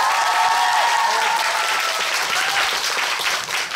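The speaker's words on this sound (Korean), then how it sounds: "박수 한번 다시 주세요." Audience applause at a post-show talk event for a stage musical, a dense, continuous wash of clapping throughout, with a faint voice or tone briefly under it at the start.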